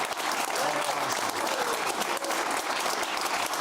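A studio audience gives a round of applause on a talk show, with dense, even clapping that holds steady for a few seconds at moderate volume and has no voices over it.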